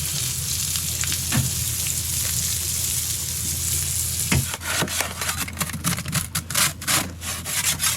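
Smoked lobster frying in a pan gives a steady close sizzle for several seconds, then turns into busier crackling and scraping with rapid irregular bursts as the food is moved around.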